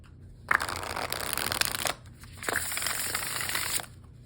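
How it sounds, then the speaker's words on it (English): A tarot card deck with swishy card stock is shuffled twice, each pass a crisp riffling swish lasting a couple of seconds, close and fairly quiet. "I also love the way that this deck shuffles."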